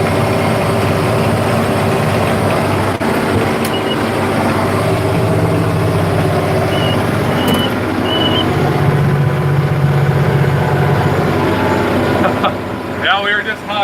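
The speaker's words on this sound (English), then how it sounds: "this tractor sounds damn good" A Versatile 895 tractor drones steadily while seeding wheat, its heavy, low engine hum loud and continuous from inside the cab, with faint higher whines and a brief rattle near the end.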